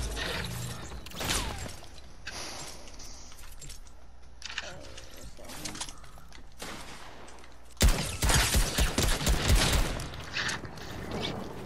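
Gunfire crackles in the Fortnite video game. After sparse clicks and mechanical sounds, a dense burst of rapid shots erupts loud in the second half, with voices talking in between.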